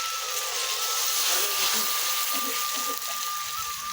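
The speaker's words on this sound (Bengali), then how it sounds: "এখন আমি এই গরম জল দিয়ে দেবো।" Hot water pours steadily into a cauliflower and potato curry in a pan, a continuous close hiss and gush with no talk.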